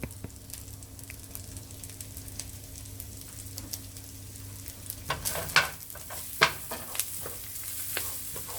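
Butter sizzles steadily in a pan as a mushroom soup base browns, with a soft continuous frying hiss, occasional stirring scrapes and a few sharper clinks of a utensil toward the end, no voices.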